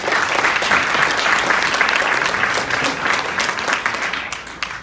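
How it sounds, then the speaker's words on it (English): Loud, dense audience applause at a panel event, many hands clapping together steadily throughout and tapering slightly toward the end. "Give her a round of applause,"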